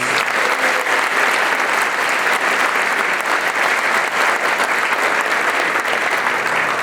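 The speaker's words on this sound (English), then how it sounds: "Let's give them a round of applause." An awards-ceremony audience claps for guidance counselors and secretaries, a continuous, even wash of applause at full strength throughout, with no speech heard over it.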